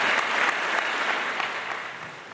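A loud, dense burst of clapping from a studio audience on a Ramadan iftar quiz show, steady and unbroken, easing slightly toward the end without any voices.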